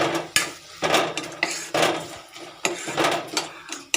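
Crab curry being stirred in a metal pot with a spoon, a series of clanking scrapes and knocks against the pot wall, close and fairly loud, roughly every half second, with no talk.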